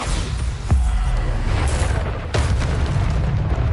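The Bombarda spell in Hogwarts Legacy goes off in two booming blasts with sharp onsets, each trailing into a rumbling game soundscape.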